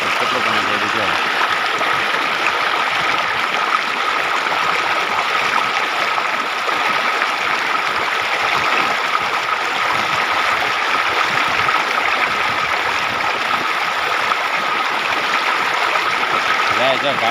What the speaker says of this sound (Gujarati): જોઈ શકો તમે કેટલું સ્પીડમાં પાણી કાઢે.